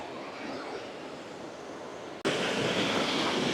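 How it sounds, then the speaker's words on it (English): Waterfall on the Cobbler hillside: a steady broadband rush of falling water, louder and brighter after an abrupt jump partway through, with no voices. "The waterfall behind us and the Cobbler in the background."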